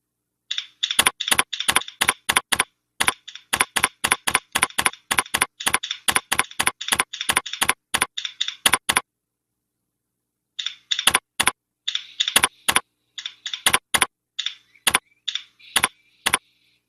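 Crisp keystrokes on a computer keyboard click in fast, rhythmic runs, loud and close against near silence, with a two-second pause before typing resumes in shorter clusters.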